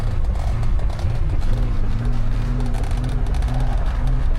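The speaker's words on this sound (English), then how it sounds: "All right, I'll accelerate gingerly." A struggling van or car engine losing power hums steadily as it accelerates gently, a close, continuous low drone with rough, fluttering texture and no talk.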